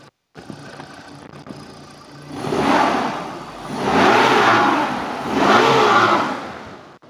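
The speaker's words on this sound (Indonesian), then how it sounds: "Sedikit kita gas. Nah, kita geber seperti itu aja" Engine of a used 1996 Suzuki Katana GX revved three times in succession, each a smooth swelling rise and fall, close and loud over a steady idle.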